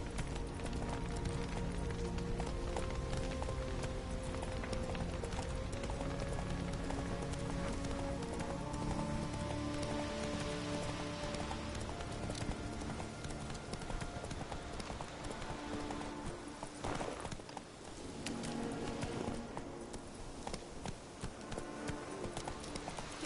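Horse hooves clip-clop at a gallop in The Witcher 3: Hearts of Stone, a fast, steady rhythm heard throughout over faint ambient game sound, with a brief snort or whinny near the end.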